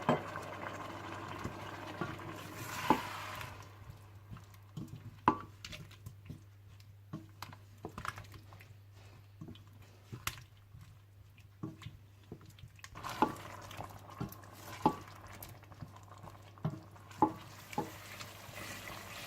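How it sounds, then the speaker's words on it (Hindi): Turmeric, red chili powder and salt masala with tomato and a little water being stirred and fried in a pan, with soft sizzling and frequent scraping taps of a spoon, close and alone without talk. "हल्दी, सुर्ख मिर्च पाउडर और नमक डालकर इसे अच्छी तरह से भून लें।"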